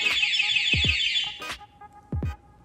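A Yamaha Sniper 155 motorcycle's two-way alarm blares a loud, rapid electronic warble, then breaks off into a few short, sharp chirps with brief pauses between them.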